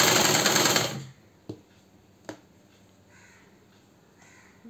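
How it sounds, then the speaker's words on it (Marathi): A sewing machine stitches golden lace onto a bordered (kathpadar) blouse. It runs in one loud, close burst of about a second, then stops, leaving near-quiet with a couple of faint clicks. "हे बघा आता मी गोल्डन लेस लावून घेणार आहे।"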